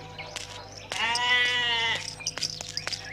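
A goat gives one long, wavering bleat lasting about a second, fairly close, within a Tamil comedy film scene, with a few shorter scuffs and noises before and after.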